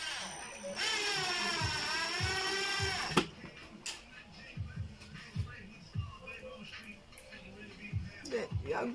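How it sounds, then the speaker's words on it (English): A power screwdriver whirs steadily for a few seconds while driving screws into a roller-type incubator egg turner, then stops, leaving faint handling clicks and a person talking nearby. "Then you screw your screws."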